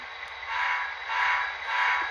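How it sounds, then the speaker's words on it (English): Model train backing up over a turnout on a layout during an operations session, a steady broadband rolling hiss that swells and eases in waves, heard alone at moderate volume with no talk. "We're going to back our train."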